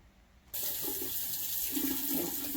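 A kitchen tap turns on abruptly and water pours steadily into the sink, close and even, with a slight splashing change partway through and no talking.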